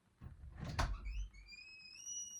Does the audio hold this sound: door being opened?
yes